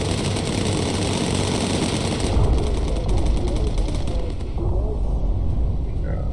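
A bomber gunner fires machine guns in the video game Bomber Crew, rapid rattling bursts running continuously beneath a loud, steady aircraft engine drone.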